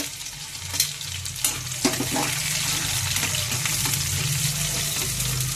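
Green chillies sizzling and frying in oil for a prawn, drumstick and tomato curry, a steady close sizzle with occasional stirring clinks.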